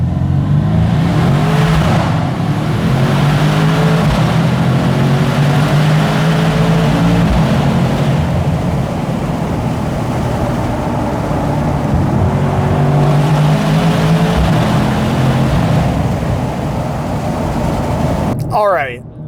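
A 2019 Mercedes-AMG C63s launches hard inside a tunnel with the windows down, its exhaust roaring loud and close as revs climb through several upshifts before cutting off abruptly at the end.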